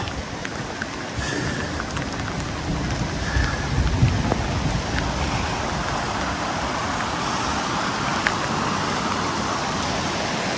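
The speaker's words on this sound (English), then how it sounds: "Quite a rain going here" Steady heavy rain pours down on a High Sierra trail as hikers cross a bridge, a dense continuous hiss filling the scene with no voices.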